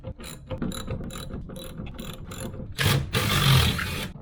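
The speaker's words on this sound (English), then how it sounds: "1/2-inch socket wrench." A 1/2-inch socket wrench ratchets in several quick bursts of clicking while working on wall-mount garage door opener hardware, followed by a louder, denser stretch of ratcheting near the end, with no voices.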